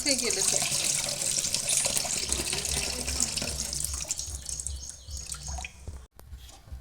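A faucet pours water over finely ground khapli wheat as it is washed, a close, continuous splashing rush that thins out briefly near the end.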